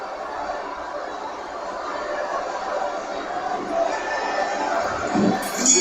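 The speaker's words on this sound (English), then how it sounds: "So a capacity crowd here for this one." Steady murmuring crowd noise fills a boxing arena in the video game Undisputed, a dense chattering hum that swells slightly toward the end.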